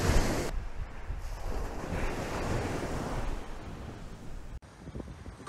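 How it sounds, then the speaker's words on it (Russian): Sea waves on the shore at Bang Tao beach in Phuket, a continuous roar of surf with heavy wind buffeting the microphone throughout. "Вот сегодня волны еще."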